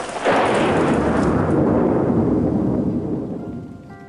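Heavy rain pours with a long, deep roll of thunder that swells early and fades away, loud and steady with no voices.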